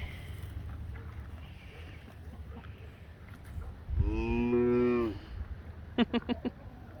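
A cow lets out one long, close moo over wind and background rumble, followed by a few short knocking sounds.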